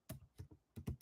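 A few distinct keyboard clicks in quick succession, close and quiet, with short gaps between taps.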